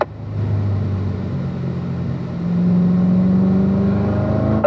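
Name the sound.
car accelerating out of a corner on a race track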